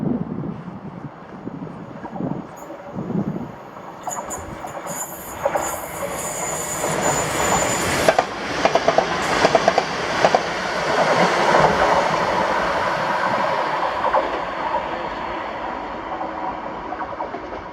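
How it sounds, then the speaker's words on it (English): ScotRail Class 334 passenger train passing at Bowling on the service to Helensburgh Central, a loud rising roar with clickety-clack of wheels and squealing as it goes by close, with no talk. "Then this was 2H11, the 1552 ScotRail service to Helensburgh Central from Edinburgh with"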